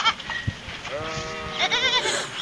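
Sheep bleat in a field in the UK, several wavering cries overlapping at close to middle distance over a faint outdoor hiss.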